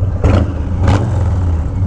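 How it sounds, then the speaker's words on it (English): A deep, steady motorcycle engine rumble through a TBR 2-into-1 exhaust on a Harley Low Rider S, idling close by, with two brief swells of revving. "the sound that this exhaust makes, it's a beautiful note"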